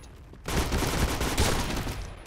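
Gunfire in the video game Point Blank erupts after a short quiet start, a dense, loud, continuous burst of rapid shots that fills the rest of the moment.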